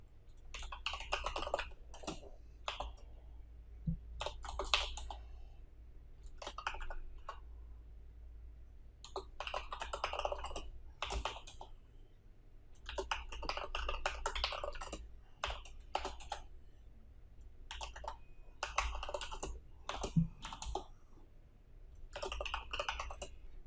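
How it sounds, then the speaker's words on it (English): Close, quiet typing on a computer keyboard while writing arithmetic operators for a PHP coding lesson, coming in irregular bursts of quick key clicks separated by short pauses. "So let me type all the arithmetical operators that we have."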